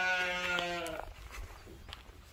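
Sheep at a sheep farm give one loud, wavering bleat up close, then fall quiet under faint outdoor ambience and distant rustling.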